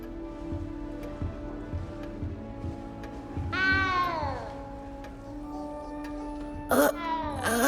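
A cat in the video game Hogwarts Legacy meows twice, a drawn-out falling call and then a shorter one, clear and near over a soft patter and steady game ambience.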